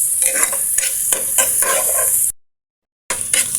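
Garlic and onion sautéing in a pan, a loud close sizzle with rhythmic stirring scrapes, cut by a brief dead silence before the frying resumes.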